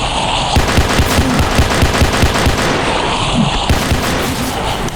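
Rapid automatic gunfire in the Roblox game Paracam, a loud, continuous stream of sharp evenly spaced shots with a brief tonal break near the end, close and dominant throughout.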